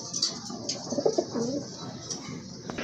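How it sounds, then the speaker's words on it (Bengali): Domestic Rajgolla pigeons coo softly and repeatedly at close range, low throaty calls over faint background noise with no talking. "আরেক জোড়া দেশীয় কবুতর রাজগোল্লা কবুতর"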